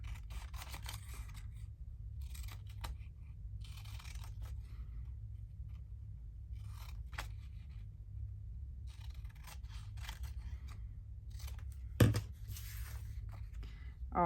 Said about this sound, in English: I'll cut the little beige bit off.